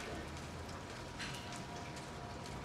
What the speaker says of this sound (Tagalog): Kamusta nga pala yung ulan dyan? Malakas pa?